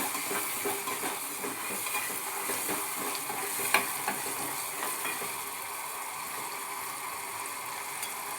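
Tomato puree fries in a pan with ginger, garlic and onion as a spoon stirs it steadily, giving a close, continuous sizzle with soft scraping and the odd clink against the pan.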